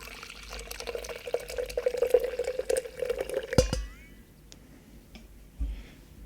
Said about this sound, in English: You pour your hot coffee in